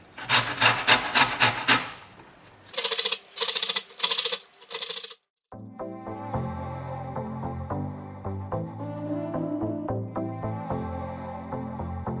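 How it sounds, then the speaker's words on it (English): An orange is rubbed against a grater to take off its zest, giving several quick rasping bursts in short rhythmic runs, followed by quieter clinking and handling sounds. "First thing, let's grate it. And do keep the zest, we'll need it."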